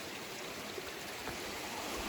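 Small waterfall and stream pouring into a pool, heard as a continuous broadband rush of flowing water, steady and fairly close with no other sounds.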